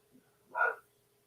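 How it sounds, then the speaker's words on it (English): A single short bark from a dog somewhere off at a distance, brief and fairly faint against a quiet room. "figure out what on earth my dog is barking at."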